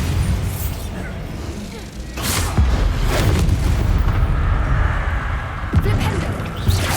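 A Bombarda blasting spell detonates in the Hogwarts Legacy video game, giving loud, booming, broadband explosive bursts over a steady rumbling game soundscape, with another sharp blast near the end.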